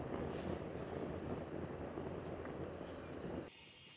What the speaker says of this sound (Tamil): அந்த ஃபேனை வச்சு இருக்கிற அடுப்பில் அந்த ஃபேனை மட்டும் ஆன் பண்ணி விட்டுட்டோம்.